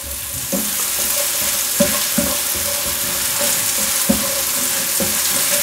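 Mushrooms sizzle steadily in butter in a pan, a loud continuous frying hiss broken by occasional light knocks and scrapes of stirring.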